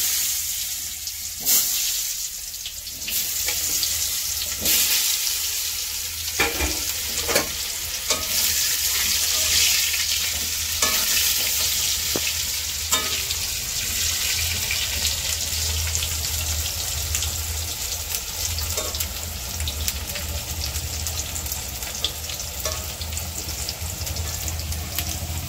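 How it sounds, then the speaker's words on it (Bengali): Potatoes frying in hot oil in a home kitchen, a steady close crackling sizzle with occasional clinks and stirring taps throughout. "আলুগুলো ভেজে নিই"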